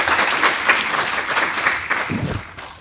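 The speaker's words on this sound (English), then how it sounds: "Let's give all the candidates a round of applause now" Crowd applause at a school board candidate forum in Sarasota County, sustained clapping from many hands that slowly thins toward the end, with a brief low thump near the close.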